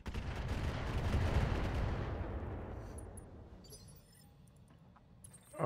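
Weapons fire in the mech combat game RogueTech as a loud, dense burst of booming gunfire that rumbles and slowly fades over several seconds, leaving faint scattered clicks behind.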